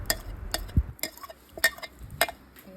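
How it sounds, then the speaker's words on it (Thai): A spoon stirs a salty coconut milk mixture in a pot over low heat while making Thai tako sago corn dessert. Close, regular scraping strokes sound about twice a second with soft liquid sloshing between them. "แล้วก็คนค่ะ คนไปเรื่อยๆนะคะ"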